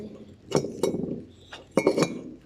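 Small hard objects clink together in a few quick bursts, light and close, as a toy stove and other toy cookware are handled.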